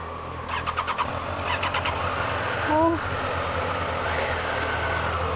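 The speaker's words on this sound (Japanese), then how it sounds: "初乗りデートナさん、エンジンかけさせてもらいます。" A new Triumph Daytona 660 motorcycle starts up close by: a short crank catches into a firm idle over the sound of an engine already running. A few clicks come just before it.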